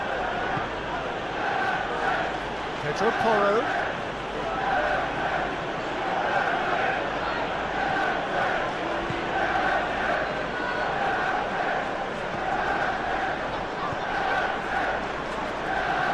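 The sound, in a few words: stadium crowd reacting in PES 21 football video game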